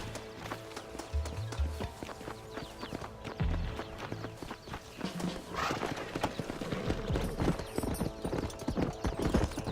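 Horse hooves clip-clop in a steady running rhythm in the Red Dead Redemption game, with an occasional whinny, set against an ongoing music score.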